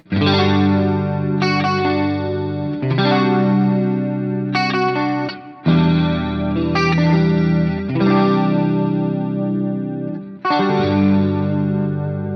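Sustained electric guitar chords drenched in a shimmering chorus effect from a Line 6 HX Stomp ring out one after another, each left to sustain before the next strum.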